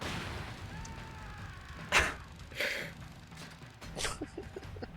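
Explosions in the video game Syphon Filter: Dark Mirror, on an Alaska level, sounding as three short, harsh bursts spaced a second or so apart over a low background hum, the first the loudest.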